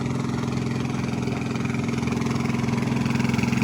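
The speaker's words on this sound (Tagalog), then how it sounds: "May parating na bangka eh." A small boat's engine putters steadily with a throbbing, even rhythm, growing slightly louder and more pulsing toward the end as the boat approaches, with no talk over it.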